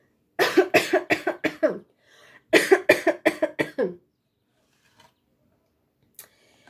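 A child coughs from bonfire smoke: two bursts of rapid, harsh coughing, about six coughs each, close and loud, separated by a short pause, then near silence.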